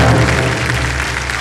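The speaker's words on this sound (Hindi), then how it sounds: "तालियां बज जाएंगे" A studio audience on a quiz show claps in a brief, steady burst of applause.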